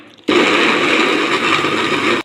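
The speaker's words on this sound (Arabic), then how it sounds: "حطينا الطماطم في الخلاط" A kitchen blender blending tomatoes switches on abruptly and whirs loudly and steadily for about two seconds before cutting off, close by.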